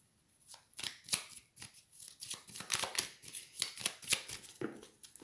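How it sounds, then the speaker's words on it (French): Tarot cards being shuffled by hand during a reading, a run of crisp, rapid riffling and slapping bursts, close and fairly quiet, with no talking. "Alors, je vais juste remettre les cartes."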